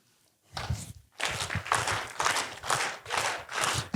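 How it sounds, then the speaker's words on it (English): A group at an HVAC sales training session performs a rhythmic clap chant: after a short silence, several bursts of clapping and stomping land in a steady repeating beat, fairly close and loud. "Lead us in the yes clap to finish up"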